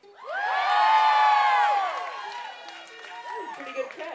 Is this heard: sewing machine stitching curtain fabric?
no